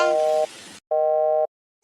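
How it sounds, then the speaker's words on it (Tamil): An outgoing phone call gives a loud, clear ringback tone on the line: two steady electronic bursts separated by a short pause, then silence. "இப்போ பிருந்தாவுக்கு கால் பண்ணுவோம்"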